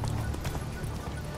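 A horse ridden cross-country in the video game The Witcher 3: faint, steady clip-clop of hooves over a low background hum, with no talking.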